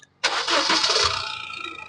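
A 2017 Honda WR-V VX car engine cranks and fires after a short pause, catching abruptly and settling into a steady close idle that slowly eases down.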